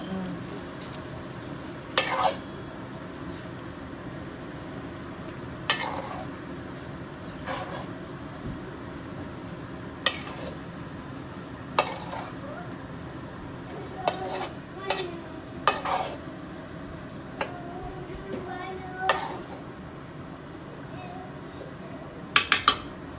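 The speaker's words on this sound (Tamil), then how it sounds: "தண்ணியை ஊற்றி கிளறணும் கிளறி போட்டு" Chicken biryani masala being stirred in a pot after water is added: a steady low simmering bubble with repeated scraping clinks of a spoon against the metal pot.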